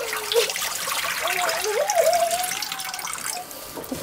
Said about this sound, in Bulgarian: И сега изсипвам водата.